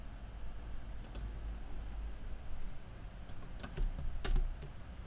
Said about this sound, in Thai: แล้วก็พิมพ์เข้าไปเลยครับ